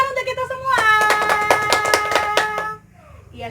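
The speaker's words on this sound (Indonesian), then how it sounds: "tepuk tangan untuk kita semua" A group at a Christian children's Bible-study gathering bursts into clapping with singing voices, a loud burst of about two seconds that fades out.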